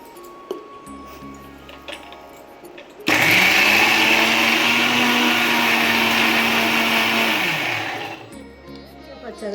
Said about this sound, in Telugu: వీటిని మిక్సీలో వేసి మెత్తగా కాకుండా కచ్చాపచ్చగా గ్రైండర్ చేసుకుందాం.